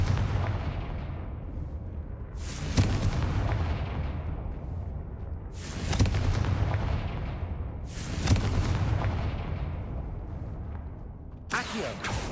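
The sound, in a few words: Confringo spell blasts in Hogwarts Legacy video game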